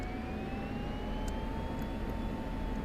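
An F-16CM jet engine in Digital Combat Simulator hums steadily at low power, a continuous broadband roar with a thin rising whine, close and even throughout.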